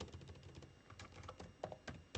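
Quiet computer keyboard typing, a loose run of soft key clicks with a few sharper taps, close by and with no voice.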